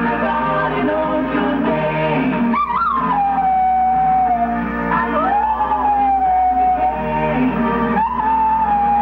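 A female pet dog howls in long, wavering, sliding tones during a 1991 Miami local TV news segment. The howl is loud and continuous, with a steady bed of piano-like tones underneath.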